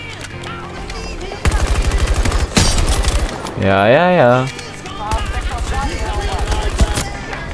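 Gunfire in the video game Battlefield 2042, bursts of rapid automatic shots and heavy firing in the foreground, with a player talking briefly between volleys and a warbling game effect in the middle.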